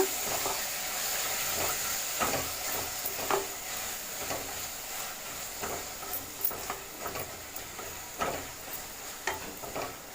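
Mint leaves sauté in a pan for chicken 65 biryani, a quiet, steady sizzle broken by repeated light scraping and stirring strokes, with no talking.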